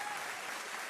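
An audience applauds for Travis Hunter and Boog Knight, a dense, steady wash of many hands clapping at close range with no pauses.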